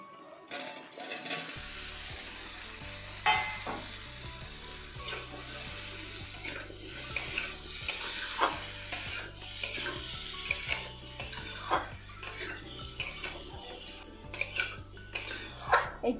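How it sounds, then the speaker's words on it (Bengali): Cut watermelon pieces tipped into spices frying in a pan for a watermelon curry, then stirred: a low steady sizzle under repeated clanking and scraping of a utensil against the pot, close and busy, with no speech. "এবার আমি দিয়ে দেবো কেটে রাখা তরমুজগুলো।"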